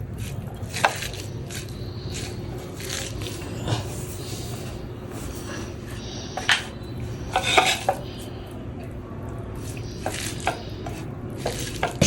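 Spices, salt and a little oil being hand-mixed into beef spleen, with soft squishing and scattered clinks of a spoon or utensil against a pot or bowl, close and moderately quiet, some sharper knocks standing out.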